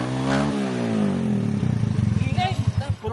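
Voices talk as an old, rusty motorcycle engine sputters to life and settles into a rapid, pulsing putter, close and moderately loud.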